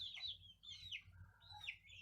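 Big backyard hens cluck and squawk close by in a homestead coop, a few rising and falling calls in quick succession over quiet background.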